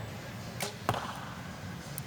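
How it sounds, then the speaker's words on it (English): An arrow is released at an outdoor youth female archery final: a quick whoosh, then one sharp thwack as it hits the target. Faint crowd ambience sits underneath. "last arrow for Brielle on this end"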